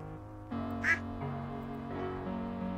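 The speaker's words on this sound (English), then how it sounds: "A duck." A duck quacks in a farming video game. Bright, nasal quacks rise over soft, melodic background music, with one louder quack standing out near the start.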